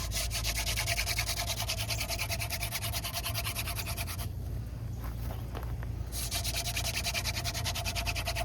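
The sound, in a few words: friction fire hand drill on tulip poplar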